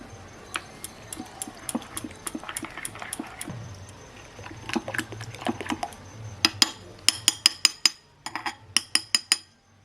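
A spoon stirs a semolina (suji) and raw potato batter with water in a bowl, producing a run of quick clinks and scrapes against the bowl that grow sharper and more rapid toward the end.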